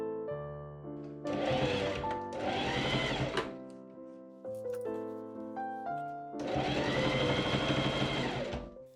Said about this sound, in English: I machine sew the taper into both inside leg seams following the pin line